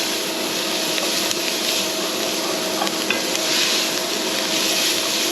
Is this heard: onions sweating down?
yes